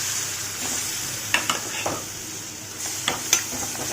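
Spices and peas frying in oil in a pan, a steady soft sizzle with a few sharp clicks and stirring scrapes at close range, no talking.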